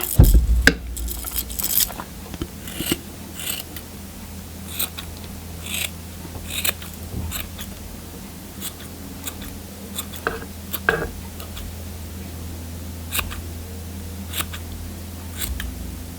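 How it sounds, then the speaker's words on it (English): Scissors snip steadily at a handmade yarn pom-pom, a run of crisp close cuts repeating every second or so with little pause, mostly alone. "let's trim this pom-pom up"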